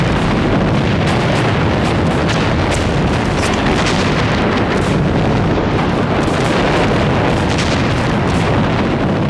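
Heavy Japanese gunfire and bombardment in a wartime battle, a dense, continuous roar of overlapping blasts and bursts, loud and close throughout with no let-up.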